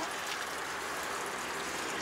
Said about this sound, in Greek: Και θα γεμώσουμε νερό